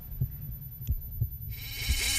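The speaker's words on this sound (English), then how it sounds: "heartbeat means you're alive." Heartbeat sound effect in the video game Driver San Francisco: steady, muffled low thumps repeating roughly every two-thirds of a second, with a bright hissing swell rising behind them toward the end.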